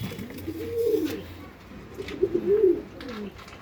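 Pigeons of a high-quality Andhra line breed coo in a loft in two soft, rounded phrases, fairly close and quiet, with no talk over them.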